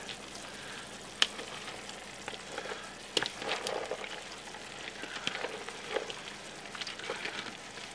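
Rice with scallions and salmon sizzles and crackles softly in a frying pan, a faint, steady fry with scattered pops and stirring noises, with no voices.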